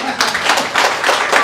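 A crowd at an art camp and exhibition in Fresno applauds in a brief, dense burst of clapping, close and fairly loud throughout.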